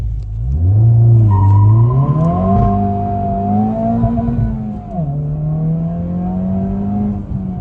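A 2023 Honda Civic Type R with a modified exhaust accelerates hard, its loud, close engine note climbing in pitch through the revs, dropping briefly at a gear change, then climbing again.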